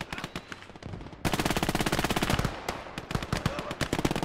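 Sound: machine gun fire from video game Gates of Hell Ostfront

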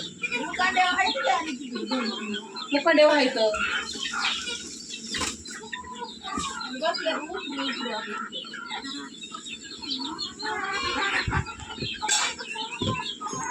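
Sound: chickens clucking

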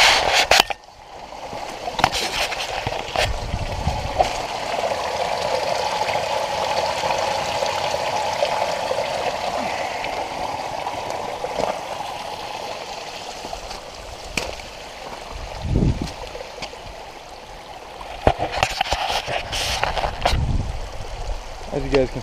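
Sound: spring water flowing in a forest

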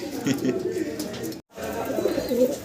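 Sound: pair of pigeons cooing

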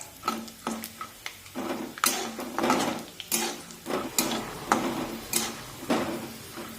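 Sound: peanuts frying in oil, stirred with a spatula

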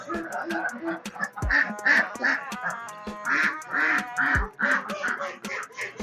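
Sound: ducks quacking at a park before feeding

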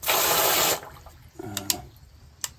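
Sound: water draining through basement floor drain

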